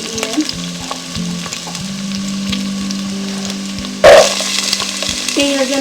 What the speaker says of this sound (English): I'm going to go ahead and put my carrots and my onions and celery in.